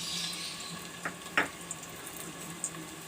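Onions fry in hot oil for a beef pulao, a quiet steady sizzle broken by a few sharp spatula taps and crackles, with no one speaking.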